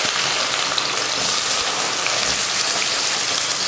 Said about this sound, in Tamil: எண்ணெய் காஞ்சிருச்சு, கொஞ்சம் வெந்தயம், கொஞ்சம் கடுகுளுந்து. வெந்தயம் கடுகு பொரிஞ்சதுமே